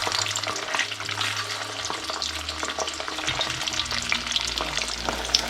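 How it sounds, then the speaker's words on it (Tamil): Fish pieces fry in a little oil in a pan for a Tamil-style fish curry, a steady close sizzle and crackle with light stirring and scraping throughout. "இப்போ ஒரு அரை பதத்துக்கு பொரிஞ்சு வந்துட்டு இப்படி லேசாக மீனை நாங்கள் மற்ற பதத்துக்கு"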